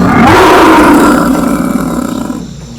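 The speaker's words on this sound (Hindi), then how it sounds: "जब दूसरे बाघ जोर से दहाड़ते थे" A big cat's deep, loud roar, a single sustained rumbling cry that swells and then slowly fades away, heard alone with no talking.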